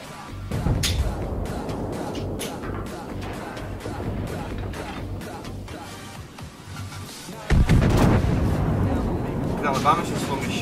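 Naval gunfire in World of Warships during a battle involving cruisers, heavy booms and crashes scattered through the clip, with a louder impact near the end, under a player's talk.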